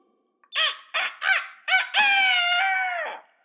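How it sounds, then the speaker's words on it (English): A rooster gives a few sharp clucks in quick succession, then one long, loud crow that trails off. The sounds are close and clear against silence. "best rooster call ever"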